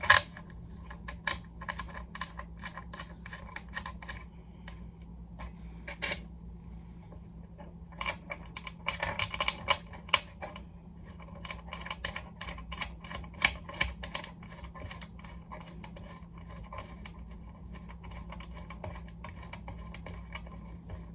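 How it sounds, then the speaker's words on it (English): Small screws dropped into the screw holes of a budget desk from Temu, a scattered series of light metallic clicks and taps, some close together, over a quiet background hum. "just go ahead and drop our screws in"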